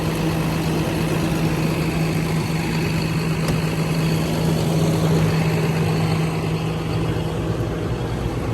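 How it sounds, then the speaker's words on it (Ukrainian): A tractor engine drones steadily and loudly throughout, a constant low rumble with no pauses and no voices. "Давайте проїдемось в тракторі."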